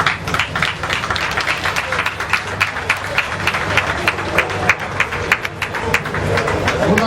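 A large crowd at a Congolese political gathering cheers and acclaims, with dense, sustained clapping and voices running steadily throughout, a roaring wash of noise with sharp claps rising above it.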